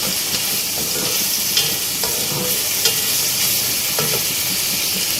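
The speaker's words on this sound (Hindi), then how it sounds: "2 से 3 मिनट तक हमें टमाटर के साथ भी इसको फ्राई करना है" Bottle gourd (lauki) pieces frying with tomatoes in a pan give a steady, loud sizzle, broken by the occasional scrape and clack of a spoon stirring through the vegetables.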